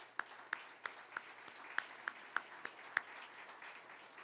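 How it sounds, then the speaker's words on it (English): Sparse, faint applause at a lecture event on walkable communities, with about a dozen distinct sharp claps spaced irregularly over a quiet room background, heard at a distance with no talking. "So please join me in giving them a round of applause."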